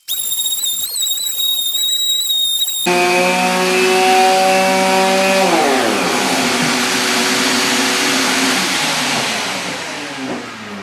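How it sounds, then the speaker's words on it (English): Power sander running steadily on the top of a wooden cutting board before an epoxy inlay, a continuous loud whirring hum that shifts in pitch as it works, with no talk. "So, let's sand the top"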